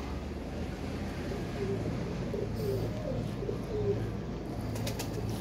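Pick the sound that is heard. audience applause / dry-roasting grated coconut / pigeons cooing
pigeons cooing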